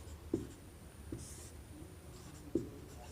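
A pen writes on paper while Pythagoras' theorem is worked out for a class 10 trigonometry lesson, giving soft, faint scratches with a few sharper taps spaced apart in a quiet room.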